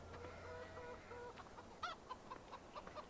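Hens cluck in a farmyard in Farming Simulator 15. A quick series of short, soft clucks comes through clearly, with no voices.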